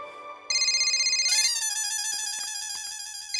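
A loud electronic ringtone plays a bright, repeating melodic tune, starting softly then jumping in volume and continuing steadily, close and alone.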